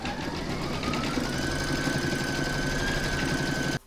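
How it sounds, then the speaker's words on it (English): An embroidery machine stitches an in-the-hoop hedgehog appliqué through layered fabric and batting, giving a loud, steady mechanical whir and hum with a constant pitch that stops abruptly at the end. No one speaks. "I'm now going to pop that into my machine and stitch round number two to secure all the fabrics and batting."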